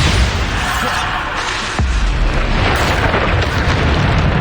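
Bombarda spell explosions in the video game Hogwarts Legacy, played with mods: loud, dense, continuous booming blasts that run together with one sharp break partway through.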